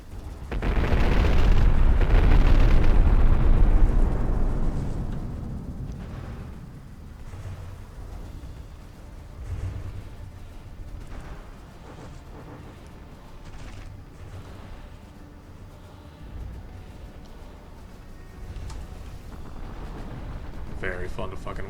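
Cram cannon shells exploding on a battleship in a video game: a long, loud rumbling blast up front, then scattered fainter booms and impacts under continuous talking.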